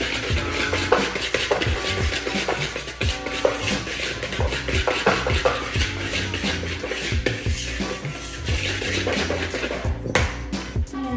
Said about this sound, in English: now I like to whisk all of my dry ingredients together